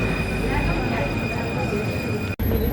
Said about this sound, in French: Voilà, c'est le métro aérien.